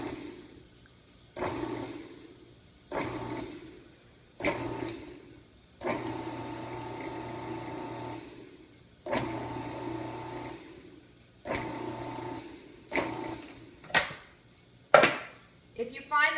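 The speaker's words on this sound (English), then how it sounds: "we're just going to pulse them. Let it come to a stop and pulse." Mushrooms are chopped for duxelles in a food processor run in short pulses, each a brief whirring burst about a second long separated by quiet gaps, repeated around ten times with a few sharper knocks near the end.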